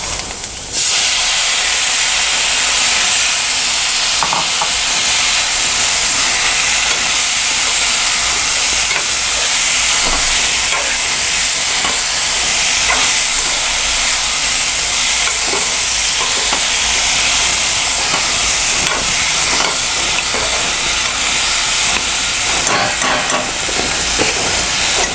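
Tomato pieces frying in a pan for a banana tomato curry, a steady loud sizzle and hiss with occasional stirring scrapes, running continuously and close throughout with no talk.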